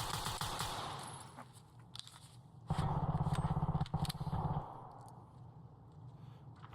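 Rapid automatic gunfire in a first-person shooter, with a fast rattling burst at the start and a louder sustained stream of shots in the middle, close and harsh, then quieter movement sounds.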